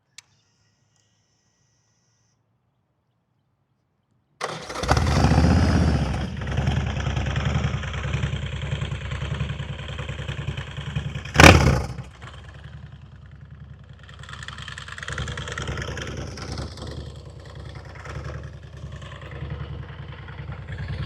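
An ARCH KRGT-1 prototype motorcycle fires up after a few seconds of quiet and settles into a loud, steady idle close by, with one sharp rev or blip partway through.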